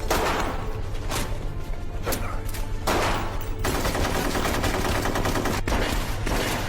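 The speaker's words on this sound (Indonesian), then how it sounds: "dia langsung menembak mati penculik Su-11" A loud burst of gunfire: several sharp shots and rattling volleys over a dense, noisy background, with a shattering crash among them.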